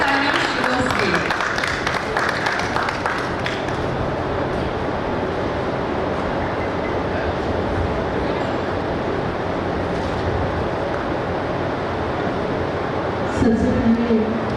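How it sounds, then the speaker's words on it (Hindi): A crowd applauds at a Mother's Day event of the Sangini women's club, dense, steady clapping that fills the room for about fourteen seconds and swells briefly near the end. "एक बार जोरदार तालियां संगनी के लिए, एक बार जोरदार तालियां शीरोज के लिए।"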